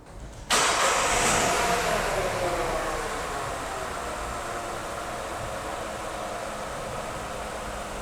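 A petrol car engine cranks briefly and starts, then settles into a steady idle hum, close and continuous with no talking.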